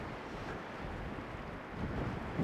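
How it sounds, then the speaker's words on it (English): Sea waves crash into rocks below the Scalpay lighthouse, a constant rushing wash mixed with wind buffeting the microphone, no voices. "the white water that's being created by crashing into these rocks down here"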